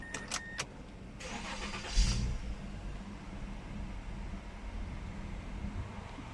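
A Mazda CX-9 engine is started after an engine control module repair: a few sharp clicks, then a brief cranking burst that catches into a steady, quiet idle held for several seconds with no talking.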